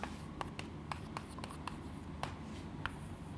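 Pen writing on paper during a biology lesson: quiet scratches and taps in an irregular rhythm, close and faint against a steady low background hum.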